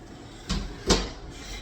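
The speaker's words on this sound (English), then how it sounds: "I'm gonna close this door." Two quick wooden thumps about 0.4 s apart as a door is pushed shut in a mobile home, fairly close and loud, with no talking.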